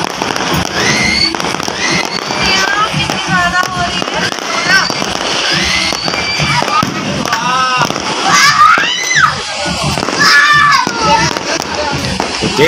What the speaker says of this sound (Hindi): तो इस टाइम की आतिशबाजी स्क्रीन पे लाई।